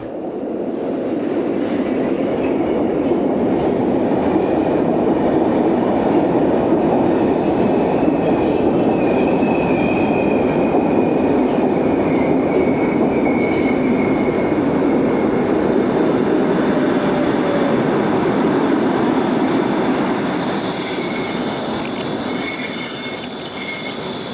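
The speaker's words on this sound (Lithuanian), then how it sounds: "Netrukus turi atvažiuoti traukinys, kuris važiuoja į Kijevą." A train bound for Kyiv rolls past close by at a station, a loud sustained rumble of wheels on rails with high metallic squealing throughout.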